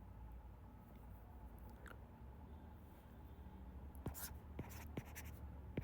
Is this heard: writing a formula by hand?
yes